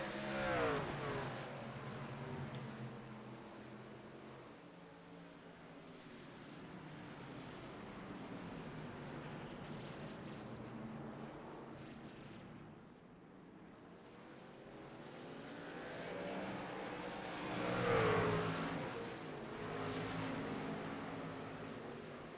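Race cars in a truck series stock car race roar around the track in traffic late in the event, a steady broad engine drone with swells as cars pass, under distant crowd and track ambience.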